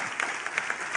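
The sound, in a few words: audience applause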